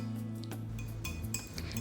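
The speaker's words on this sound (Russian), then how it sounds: "И очень хорошо перемешиваю вилкой прямо в чашке." A fork mixes wheat flour batter in a cup, giving rapid scraping and clinking against the sides in a steady, close stirring rhythm with no voices.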